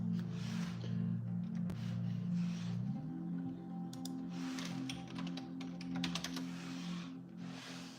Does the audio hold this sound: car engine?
no